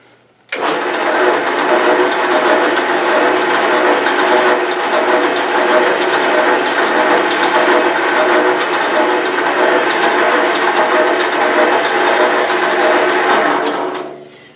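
A Delta/Milwaukee bandsaw running in its fastest gearbox-driven gear, a loud steady mechanical roar and whine that starts abruptly, holds evenly for about thirteen seconds, then winds down.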